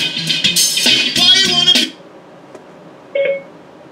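Inside a 1956 Lincoln Continental, a burst of bright electronic chirping tones is followed by a single short activation beep for phone voice commands, close and clear with no talking.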